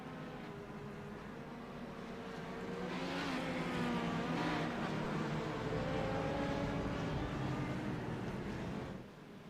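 Eleven sports cars in the Legacy Sports Car Series idle and rev on the grid at Canadian Tire raceway, a steady engine drone swelling louder midway with overlapping revs, then easing off at the end.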